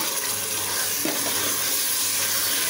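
Chicken pieces with salt and half a lemon's juice sauté in a pan for chicken biryani, giving a steady, close sizzling hiss throughout with no one talking.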